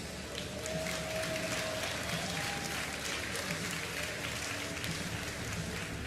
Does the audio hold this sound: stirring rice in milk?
no